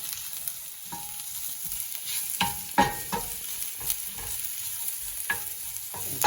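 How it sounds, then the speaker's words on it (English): Vegetables sauté in a pan for hangover pasta, a steady soft sizzle broken by scattered clinks and scrapes of stirring, close and unaccompanied by speech. "I'm going to let this happen in the pan for a little bit, let that saute."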